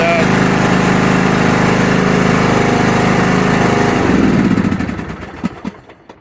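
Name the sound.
lawn mower engine starting and running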